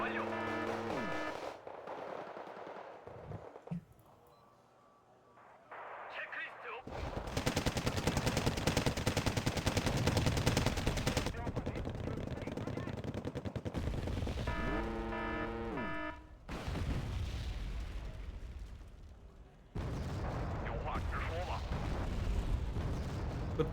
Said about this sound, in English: Good bombing run though.